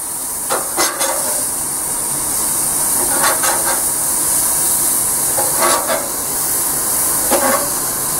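Lean beef burgers sizzle on a barbecue with a steady, loud hiss that fills the whole stretch, broken by a few soft clicks and scrapes from flipping, with no talking.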